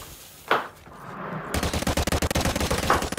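Rapid automatic gunfire in Call of Duty Modern Warfare 2, loud and close, starting with a single crack and then a steady rattling burst of dense shots.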